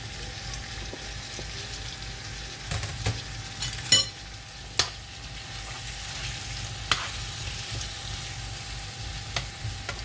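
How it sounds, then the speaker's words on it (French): Meat grills in a pan with a continuous soft sizzle and crackle. Scattered sharp clicks and taps of a utensil sound against the pan, and a faint steady tone hums in the background. "Je vais laisser griller la viande."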